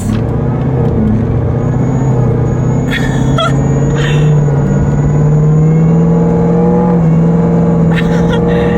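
A modded, untuned Chevrolet Camaro ZL1 drives along with a steady, loud engine drone and a rising whine held throughout, a few brief higher-pitched swells over the constant rumble; a voice may be faintly present.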